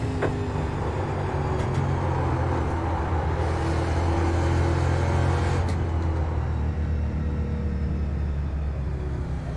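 Race car engine in a SHARC series oval racing video game, a loud steady droning rumble that holds throughout with only slight changes in pitch and no talking.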